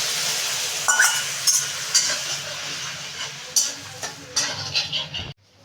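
Poppy seeds, bay leaf and radhuni tempering spices sizzle in hot oil for a milk-based shukto, a steady frying hiss broken by sharp scraping stir strokes before it cuts off abruptly near the end.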